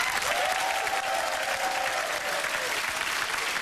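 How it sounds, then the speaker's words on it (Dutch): A Dutch studio audience gives Amy Winehouse steady, dense applause throughout, a full wash of many hands clapping with a faint cheer running through it. "geef haar een warm applaus"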